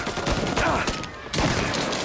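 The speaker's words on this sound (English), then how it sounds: "Gunfire and an explosion reported at the Corleone Hotel." Gunfire in the video game Mafia Definitive Edition: a rapid fusillade of loud, close shots fired in quick bursts, with a brief lull midway before the firing resumes.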